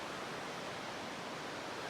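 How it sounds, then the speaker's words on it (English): Fires Creek runs below a forest trail, giving a continuous, even rushing of water that fills the whole stretch without breaks or voices. "You can hear Fires Creek down there."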